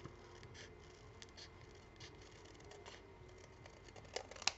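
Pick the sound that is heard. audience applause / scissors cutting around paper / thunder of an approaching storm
scissors cutting around paper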